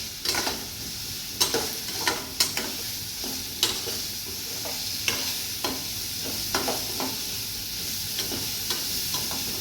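Beans poriyal, green beans with coconut, cooking in a pan gives off a soft steady sizzle, broken by sharp scraping stirs and taps of a spoon against the pan at an uneven pace, with no one talking.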